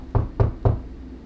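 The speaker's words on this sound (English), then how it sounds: "Owl knocked on Elephant's door." Three sharp knocks on a wooden door, evenly spaced and close, each a short hollow thud with no voices.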